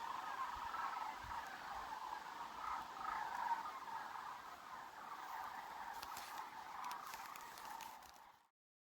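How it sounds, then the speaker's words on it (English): A distant chorus of sandhill cranes calling steadily in open country during a moose hunt, a continuous rattling, overlapping mass of calls that stays faint and far off before cutting out abruptly. "Those are all sandhill cranes."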